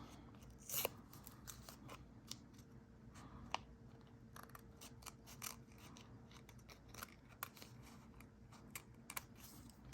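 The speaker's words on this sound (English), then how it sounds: "And I'm doing that with my scissors." Quick, crisp snips of scissors cutting, irregular little clicks and slices repeating close up over a quiet background.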